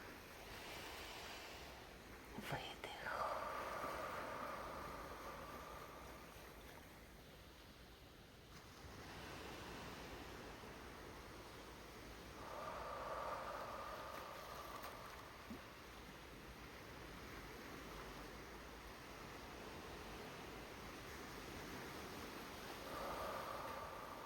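Sea waves rolling in with a continuous soft wash of surf, swelling and receding in slow, even surges, distant and gentle, with faint wind noise and no voices.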